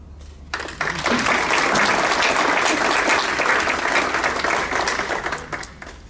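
Applause for an award recipient at a school district staff awards ceremony, a full room clapping steadily after a short ramp-up, then tapering off toward the end.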